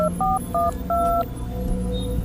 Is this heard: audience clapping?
no